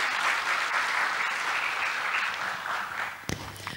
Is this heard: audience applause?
yes